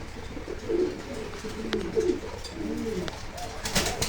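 Fantail pigeons cooing in low, throaty bursts that recur several times over a few seconds, close by with soft background noise and a few faint chirps.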